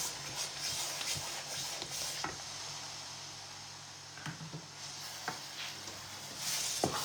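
Food being stirred and fried in ghee in a pan: quiet, continuous sizzling with scraping shuffles and scattered light knocks of the utensil against the pan.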